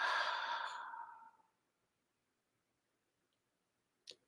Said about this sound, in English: whichever you choose, through the nose or through the mouth, exhale.